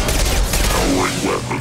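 Weapons firing in Mass Effect 2, a dense burst of rapid gunfire and impacts filling a short stretch of game sound, loud and continuous throughout.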